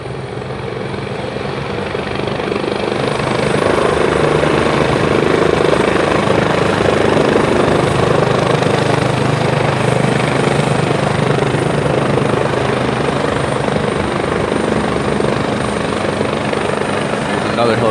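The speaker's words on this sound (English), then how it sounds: "There's another helicopter over there coming over the field." A helicopter flies over a football field during a military appreciation day game, its loud rotor drone steady and close throughout, swelling slightly in the middle, with crowd noise beneath.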